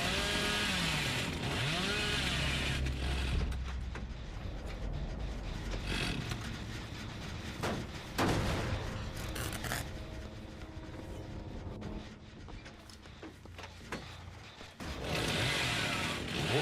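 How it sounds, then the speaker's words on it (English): A chainsaw in the game Dead by Daylight revs with a buzzing, rising engine whine at the start and again at the end, with scuffling gameplay noise and thuds in between. "Missed with the chainsaw."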